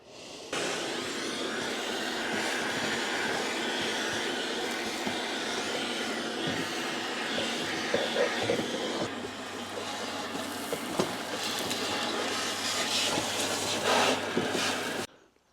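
A steady, loud vacuum cleaner drone runs nearly the whole time inside a van, sucking up cutting debris, broadband and continuous, with a few small knocks and shifts in pitch partway through.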